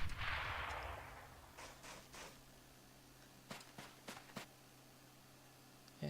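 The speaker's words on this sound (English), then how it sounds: "don't worry, it's just a grenade" A grenade blast in the Men of War: Assault Squad 2 war game opens with a loud burst that decays over about a second. Scattered distant gunshot cracks follow against a low background hum.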